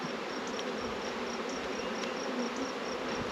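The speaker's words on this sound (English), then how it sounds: "We got a lot of bees here" Bees buzz in a dense, steady drone inside a wooden hive box loaded with swarms, constant and close without pause.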